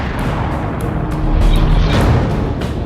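A massive cosmic blast of a collapsing, dying star rendered as a sound effect: a sustained deep rumbling roar with repeated booming pulses, loud and dense throughout.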